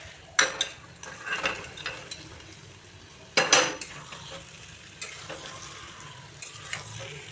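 Potatoes frying in spice masala for aloo dum give a steady close sizzle, broken by sharp clatters and scrapes of a stirring spoon against the pan, with two louder knocks and no talk.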